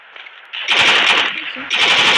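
Rapid gunfire in a video game, loud bursts of automatic shots crackling close, with a brief gap before a second burst.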